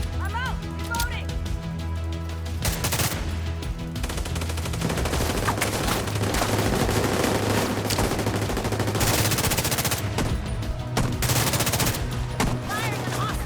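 Sustained automatic gunfire from Tom Clancy's The Division 2, with rapid bursts crackling across most of the stretch, loud and close, broken by brief pauses and mixed with game sound.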